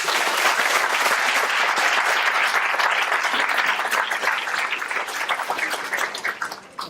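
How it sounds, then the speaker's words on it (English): An audience applauds the organizers of a community gathering, a dense wash of many hands clapping at close range that holds steady and then thins out toward the end. "So I just want to give a round of applause to them."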